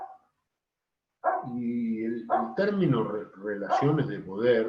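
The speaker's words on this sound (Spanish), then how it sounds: "ese es mi perro que quiere entrar y todavía es temprano" A pet dog barks and whimpers to be let indoors, the short yelps mixed in under steady, close indoor speech from someone talking throughout.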